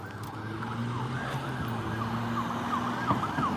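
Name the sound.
ambulance siren on a night street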